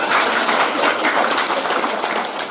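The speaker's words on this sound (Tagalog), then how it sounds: "So ikanteman ti palakpak dagiti senior citizens nga tayo." A gathering at a barangay event applauds senior citizens, a steady wash of clapping that continues for a couple of seconds with no voices over it.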